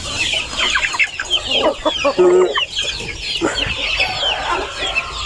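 Chickens and growing chicks cluck busily on a Thai poultry farm, with a brief rooster-like call in the middle; the calls overlap densely and stay close and fairly loud throughout.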